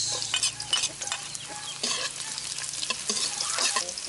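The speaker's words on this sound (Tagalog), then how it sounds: "Mag-isa muna tayo ng bawang sibuyas." Garlic and onions sauté in hot oil in a pan, a bright steady sizzle broken by scraping and stirring taps, heard close and with no talk over it.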